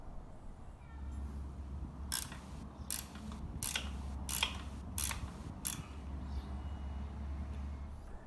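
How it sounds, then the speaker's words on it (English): Ratcheting tool tightening a hex head bolt with washer on a seat bracket of an Indian Scout Bobber motorcycle during a Corbin solo seat install: several short bursts of ratchet clicks, close and moderately loud over a low steady hum, no talk. "put on the washer and the hex head bolt and tighten it up"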